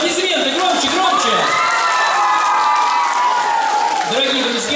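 A festive dance-competition audience at a children's performance cheers and shouts loudly, a dense continuous crowd roar with excited children's voices rising over it throughout, some clapping mixed in.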